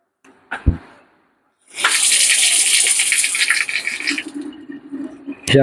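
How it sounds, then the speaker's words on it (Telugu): Water gushes from a bathroom tap in a house, a loud steady splashing stream that starts after a few clunks and a short pause and runs to the end, with a faint rattle alongside. "కొలాయి నీళ్ళు కూడా వస్తున్నాయి"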